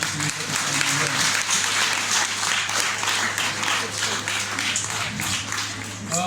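An audience applauds at an annual church convention, sustained clapping from a large hall crowd with a voice talking over it.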